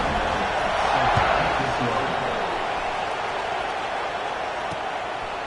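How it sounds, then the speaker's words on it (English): A football stadium crowd buzzes steadily after a touchdown, a broad and loud wash of many voices. It rises slightly early on and then holds a constant roar, with a commentator talking over it. "this crowd is buzzing after that last score"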